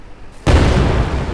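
A sudden loud explosion booms in the GTA video game, a sharp onset that rolls on into a sustained, rumbling roar.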